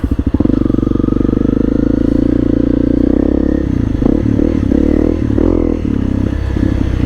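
Husqvarna motorcycle picking its way over rocky double track, engine loud and close, steady chugging at first, then uneven throttle blips, clatter and scrapes as it climbs over rocks.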